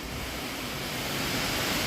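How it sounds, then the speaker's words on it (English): Steady rain falls on a garden with a strawberry bed in Burnt Church, a dense, even hiss of fairly constant loudness across the whole stretch, with no voices. "we're getting some rain now"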